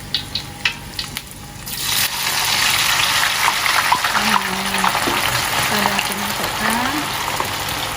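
Shallots for crispy fried onions drop into very hot cooking oil, bursting into a loud, steady sizzle and bubbling that continues without a break after a few quiet clinks.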